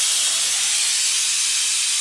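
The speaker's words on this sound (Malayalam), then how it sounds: "വെയിറ്റ് ഇടുവാണേ ആവി വന്നു കേട്ടോ" Loud, steady hiss of steam escaping from a pressure cooker cooking beef, continuous and unbroken throughout.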